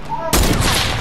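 A single sharp gunshot blasts out in Fortnite gameplay, a loud broadband crack that hits suddenly and then trails into a dense, lingering roar of game noise.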